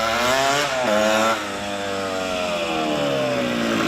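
A 1977 Yamaha IT175 two-stroke motorcycle on the move, its engine buzzing loud and close, rising in pitch, dipping briefly as it shifts, then climbing steadily again.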